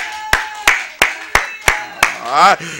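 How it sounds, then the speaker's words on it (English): A church congregation claps hands in praise in an evenly spaced rhythm, six sharp claps at about one per third of a second, close and loud, with a sung or chanted voice sustained between and over them. "clap your hand and give my God some praise"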